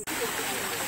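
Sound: stream water flowing

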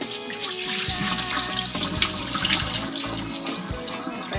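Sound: water pouring into cookware pot over corn

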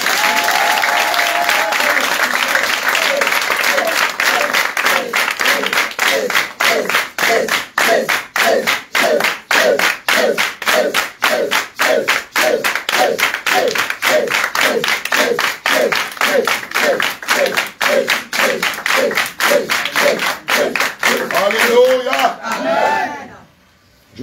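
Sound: congregation applauding

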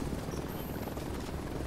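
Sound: helicopter arriving in the video game The Division 2

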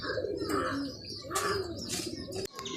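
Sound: pigeon squabs begging for feed

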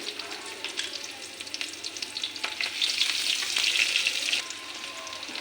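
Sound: whole cumin tempering, frying in oil on low gas

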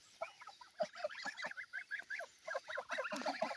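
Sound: geese honking

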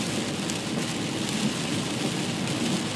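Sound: steady rain falling

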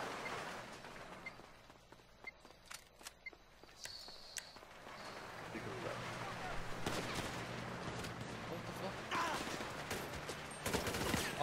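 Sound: machine gun fire in GTA V Online video game

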